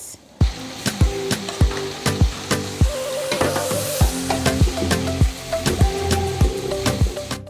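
Onion, pepper and yet, a small Senegalese fermented fish, frying together for thieboudienne, a steady hot sizzle broken by regular sharp scrapes and knocks of a utensil stirring the pan, close and alone.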